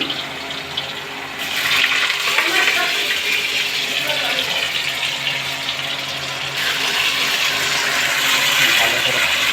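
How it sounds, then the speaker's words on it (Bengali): Potatoes fry in hot spiced oil with tempering for a vegetarian jackfruit curry. A close, steady hiss of sizzling swells after the first second and keeps going. "আলুটাকে ভালো করে ফ্রাই করে নিতে হবে।"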